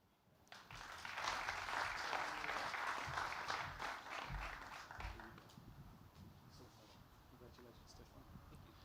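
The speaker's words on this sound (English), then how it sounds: "One more round of applause" Audience applause at a scientific merit awards ceremony, a sustained wash of clapping that swells quickly, holds for several seconds and slowly thins out, with a few voices faintly under it.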